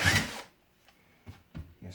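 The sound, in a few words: drilling into wood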